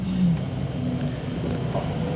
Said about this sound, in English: Courtesy bus.